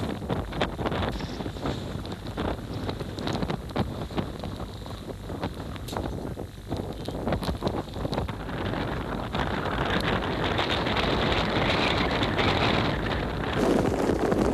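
Gusting storm wind buffets a mountain camp during a high-altitude Alps ascent, a continuous loud roar that swells and grows stronger toward the end, with no voices.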